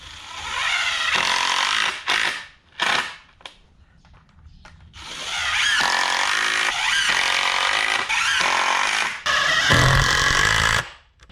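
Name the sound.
screws being driven in to attach a solar panel mount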